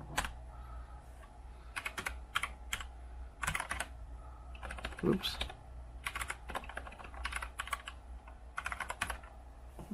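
Bursts of keyboard typing, clicky keystrokes in quick clusters separated by brief pauses, fairly close, with a short spoken exclamation.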